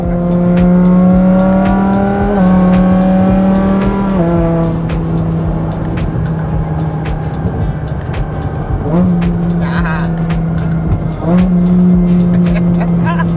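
A BMW M6 driving on an errand run, its engine droning loud and close with a steady tone that rises and falls through several gear shifts, the pitch dipping and climbing again near the end.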